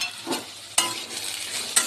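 Food sizzles and spits in a wok with salt and turmeric just added, a steady crackling fry broken by two sharp stirring scrapes.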